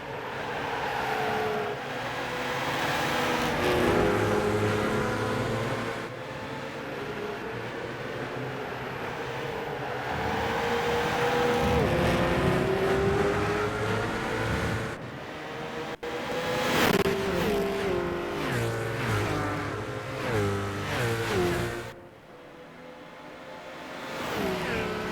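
Race cars in Gran Turismo 5 roar close together at high speed, their engines revving up and down through gear changes as they run side by side and overtake, with a steady loud engine drone throughout.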